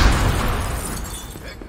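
An RPG rocket explodes in the Dead Rising 3 video game: a loud, dense burst of rumbling noise that stays heavy and slowly fades over under two seconds.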